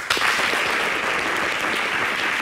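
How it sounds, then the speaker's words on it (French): Studio audience on a TV talk show set breaks into sustained, loud applause, a dense wash of clapping that holds steady from start to finish. "Ça s'applaudit."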